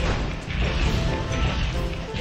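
Heavy crashing and smashing impacts from combat against enemies in the Final Fantasy XIII video game fire in a loud, dense barrage of game effects, with no one talking.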